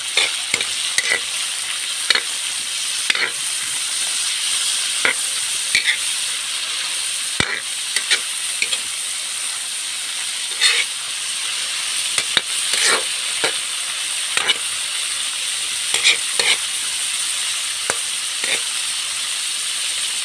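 Kangkong being sautéed in a pan, with a steady close sizzle and intermittent clinks and scrapes of a spatula stirring throughout.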